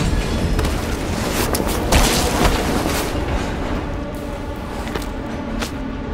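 A train in Call of Duty: Black Ops Cold War rolls into an East German station with a steady, loud, broadband rumble and a few heavier thumps, with no talking.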